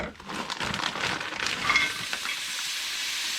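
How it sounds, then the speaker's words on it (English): Sliced peppers and onions hit a hot pan alongside soy-marinated steak for sandwiches, giving a quick burst of sizzling that settles into a soft, steady frying hiss. "I'm going to go ahead and add peppers and onions"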